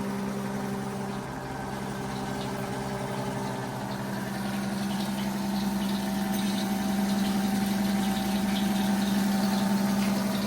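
An original Seaside silver gold gas pump about 90 years old, pumping diesel fuel with a steady mechanical hum and faint liquid whir that runs continuously and evenly, with no talking.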